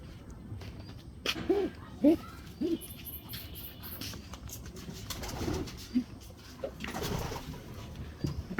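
Racing pigeons coo softly in a loft, a few low murmuring calls scattered through quiet background rustle, with faint voices nearby.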